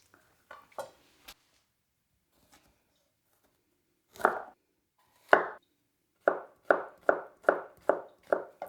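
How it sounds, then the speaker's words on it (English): A sharp knife slices through a soft strawberry in a run of crisp, close taps against a cutting board, first scattered and then in a quick, even series of about eight cuts near the end, with quiet gaps between. "Pretty impressive to be able to cut a soft strawberry that easily."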